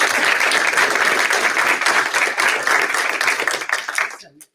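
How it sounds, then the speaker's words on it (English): A board meeting audience applauds a first grade teacher with loud, continuous clapping that builds and then quickly dies away at the end, with some voices mixed in. "So let's give her a round of applause."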